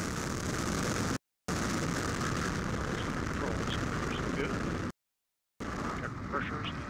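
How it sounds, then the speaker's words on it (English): An Atlas V rocket lifts off from the West Coast carrying NASA's InSight Mars lander, a loud, steady broadband roar that fills the clip. Two brief dropouts of silence break the sound. "And liftoff of the Atlas V, launching the first interplanetary mission from the West Coast"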